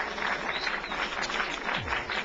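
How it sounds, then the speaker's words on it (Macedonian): A studio audience at a Macedonian television show claps in sustained applause, a dense and even patter of many hands from start to finish, with no voice rising above it. "Аплауз дајте му, браво."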